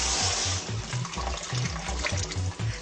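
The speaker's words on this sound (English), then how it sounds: "we need to rinse those out in some salt water" Food rinsed by hand in a bowl of salt water in a kitchen, with steady splashing and sloshing water, repeated dull swishes at an irregular rhythm, close and alone.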